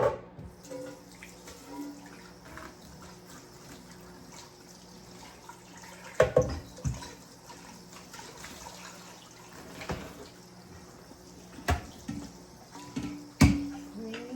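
Tap water runs steadily into a sink while items are washed by hand, with clinks and knocks of dishes now and then. It is close and fairly quiet, with no talking.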